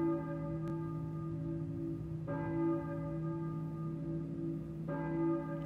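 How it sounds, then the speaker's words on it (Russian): A church bell in the video game Silent Hill tolls slowly and evenly, each stroke ringing out with a long humming decay, heard at moderate distance. "Думаю, это церковный колокол"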